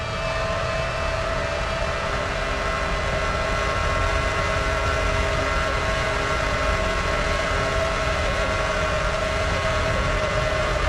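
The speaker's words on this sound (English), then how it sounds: "I'm just going to let you listen to this V10 engine scream." An F1 car's V10 engine screams at the Indianapolis Motor Speedway oval, a sustained, high, whining tone that stays steady and loud throughout, with no voices.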